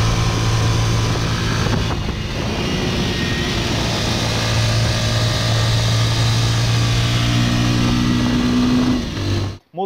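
A Dafra Apache RTR 200, a 200 cc fuel-injected motorcycle with a TVS engine, rides along with a loud, steady engine drone and shifting pitch under wind noise, ending abruptly.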